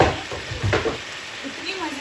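Chicken liver (kaleji) fries on a tawa, a short burst of close sizzling with a few muffled scrapes and stirring knocks.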